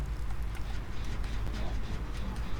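Running footsteps in the video game Dead by Daylight patter in a quick, steady clatter, fairly faint beneath a constant low background rumble.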